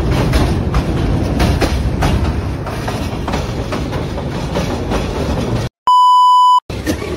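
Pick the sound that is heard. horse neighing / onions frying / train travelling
train travelling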